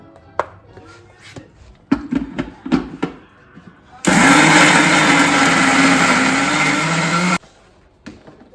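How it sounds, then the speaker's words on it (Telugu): After a few short knocks and taps, a mixer grinder blending ginger-garlic paste for biryani roars loudly and steadily for about three seconds, then cuts off abruptly, followed by a faint click. "సో ఇప్పుడు మనం మిక్సీ పెడదాము"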